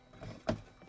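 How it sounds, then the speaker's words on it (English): A single muffled thunk of a car door shutting, short and close, over quiet background rumble. "I'm going to close this door"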